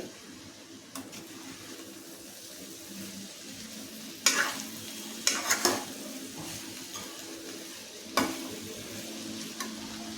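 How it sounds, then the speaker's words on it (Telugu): Cabbage stir-fry seasoned with chili powder being stirred in a pan, a steady low sizzle broken by a few sharp scraping clacks of the spoon against the pan, close and moderately loud with no voices. "చక్క కారం అంతా కూడా బాగా కలిసేటట్టుగా కలపండి"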